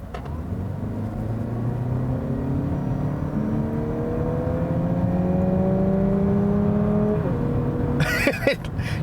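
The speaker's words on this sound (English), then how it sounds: "there is literally a fake, Formula One V6 that's screaming in the background" A 2019 Lexus UX 250h F-Sport hybrid accelerates, its synthetic V6 sound rising in a climbing whine over a low rumble for several seconds, then dropping off near the end.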